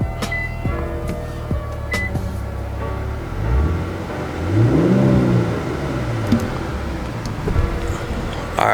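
An Infiniti Q50 3.0T fitted with an Invidia exhaust heard from inside the cabin: a steady low engine drone rises and falls as the car revs, with road rumble underneath and no talking.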